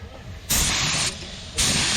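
A paint spray gun hisses in two strong bursts while coating a CUCV M1031 military truck, each blast loud and close, separated by a brief quieter pause.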